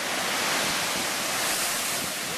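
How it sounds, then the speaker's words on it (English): Big waves crash at a lava ocean entry in a dense, continuous roar of churning surf that fills the whole stretch without a break, with no voices. "the waves are getting angry now"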